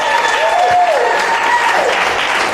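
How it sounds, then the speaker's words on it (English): Audience applauding a first amateur stand-up comedy set, steady close clapping throughout with a tonal whistle-like line running over it. "Can we give him a round of applause for that?"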